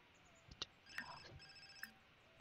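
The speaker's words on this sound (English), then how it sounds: "Phone's ringing now." A telephone rings inside The Sims 4 during a New Year's Eve party, a few faint electronic ring tones sounding at a distance among quiet game sounds, with no one talking.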